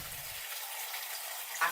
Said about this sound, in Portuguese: Aqui é a água da torneira